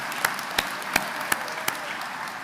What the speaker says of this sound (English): Please give them a round of applause because they're now graduating college as well.